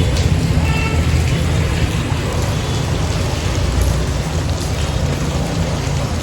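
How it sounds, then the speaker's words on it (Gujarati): Heavy rain pours in Jamnagar, a loud, dense and unbroken hiss of falling water and drops striking surfaces, with a low rumble beneath. "તમે જોઈ શકો છો હજી વરસાદ આવે છે"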